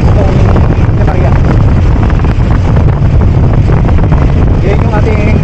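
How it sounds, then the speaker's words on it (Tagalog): Strong wind buffets the microphone during a Sunday motorcycle ride, a loud, constant roaring rumble throughout with no break. "medyo malakas lang yung hangin."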